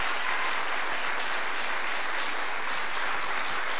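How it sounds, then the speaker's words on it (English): Audience applauding at a high school chorus spring concert in a hall, a steady, dense wash of many hands clapping, loud and continuous with no voices over it. "so round of applause for that."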